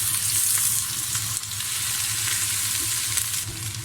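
Garlic ginger paste is stirred into frying onions in a pan over medium heat, making a steady close sizzle with soft scraping stirs and light crackles and no one talking.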